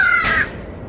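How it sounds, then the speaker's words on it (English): A crow caws once from somewhere high overhead, a harsh, bright call standing out briefly before fading into quiet outdoor background. "Something way up there is cawing at me."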